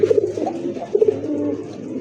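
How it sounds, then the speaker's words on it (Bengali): A male white pigeon with a pink beak coos in a low, rounded rhythm, two short bursts of repeated notes heard up close against steady background noise. "গোলাপি ঠোঁটের ডাকটা দেখেন নরের, আর ডাকের ভয়েসটা বাকবাকুম"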